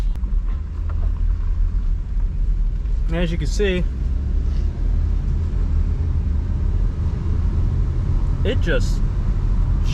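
Engine of a 2006 Dodge Ram 1500 pickup idling, a steady low rumble running throughout under a voice, with a couple of brief higher sounds partway through.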